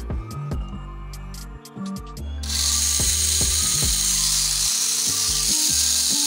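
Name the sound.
engine running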